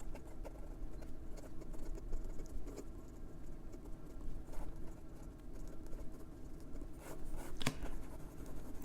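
A restored 1964 Parker 45 Flighter fountain pen writes on paper, making a soft, close, continuous scratching of quick strokes with small taps and pauses, faint and alone.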